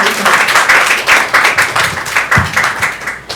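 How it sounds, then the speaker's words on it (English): Steady applause from a forum audience, many hands clapping together in a continuous wash that swells in pulses before tapering off. "So can we just give her a round of applause?"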